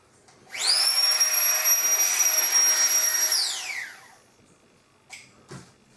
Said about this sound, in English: So that's a pump.